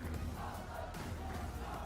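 Dense, steady crowd roar fills an esports arena at a Tekken 8 tournament, a continuous wash of cheering and shouting with no pauses, loud and close throughout.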